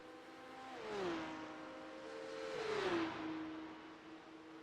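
Porsche 911 Cup (992.2) race car engines at Fuji in a racing video game, a smooth rising whine that swells, drops with gear shifts and climbs again as the cars drag race down the main straight, moderately loud with no talk.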